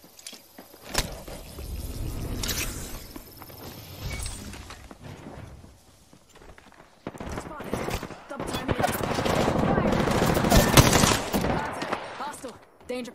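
Gunfire in Apex Legends arrives in bursts: a sharp single shot, then sustained rapid automatic fire and a long heavy volley later on, loud and close, with a person talking at moments.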